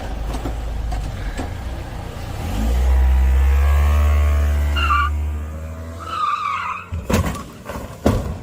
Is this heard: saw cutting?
no